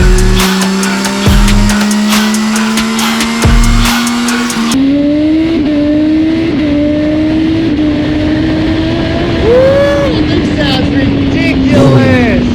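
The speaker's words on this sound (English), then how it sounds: "So here we have the full Akrapovič exhaust." A 2023 Yamaha XSR900 motorcycle fitted with a full Akrapovič exhaust: a loud, close engine blips through sharp revs at first, then settles into a raspy idle with occasional throttle rises and falls.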